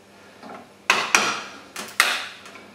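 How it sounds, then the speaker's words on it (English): Four or five sharp taps with a small screwdriver or chisel knocking plastic pieces out of a VermiBag Mammoth support frame, each a close, bright knock with a short decay. "I'm going to grab a small screwdriver or a chisel, something just to knock these out, and they'll pop right out"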